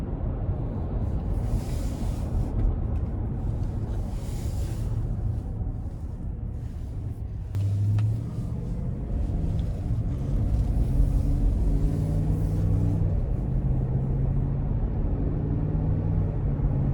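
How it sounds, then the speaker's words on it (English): Low, rumbling engine drone from a 2025 Chevy Tahoe LT with a 5.3 liter V8, heard from inside the cabin during a drive, steady and moderately loud with some road and wind noise. "it also has a nice rumble to it when you give it a little something."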